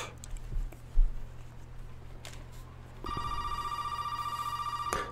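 An old-style telephone rings in the Resident Evil 7 trailer, a sustained electronic ring starting about halfway through, steady and moderately loud over a dim, quiet ambience with a few faint thuds before it.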